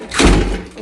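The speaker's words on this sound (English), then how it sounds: "Okay, let's close the door." A house door swings shut, one solid thud-like closing impact, close and fairly loud, with no talking over it.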